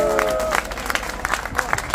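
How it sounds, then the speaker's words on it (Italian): Crowd clapping at an outdoor live music and DJ festival, scattered claps in a loose rhythm that start after a short sung or spoken phrase, with voices partly over them. "Fatemi un applauso di nuovo"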